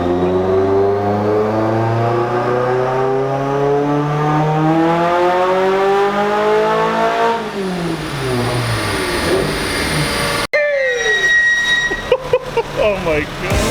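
A Mazda Miata engine pulling hard on a 100 shot of nitrous, loud rising rev that climbs steadily then drops off, followed by a sharp break and quieter engine and road noise with brief bumps.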